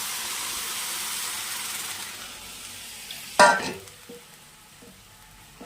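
Grated carrots cooking in ghee in a pan for village-style gajar halwa, giving a steady close sizzle that stops, followed by one sharp clatter of a utensil and then quieter bubbling.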